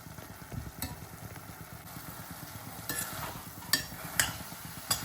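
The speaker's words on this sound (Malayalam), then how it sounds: "ഇതിപ്പം അങ്ങനെ ശർക്കരയ്ക്കകത്ത് സാവകാശം ഇളക്കി വഴറ്റിയെടുക്കണം." Flattened rice is stirred slowly into melted jaggery over medium heat, a soft sizzle beneath scraping spoon strokes and a few sharper clicks against the pan.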